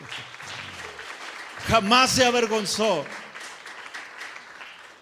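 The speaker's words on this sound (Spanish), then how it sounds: "Den un aplauso al Señor." A church congregation applauds in a steady, broadband wash of clapping while a preacher's voice rises loudly over it in the middle, the clapping continuing beneath and after his words.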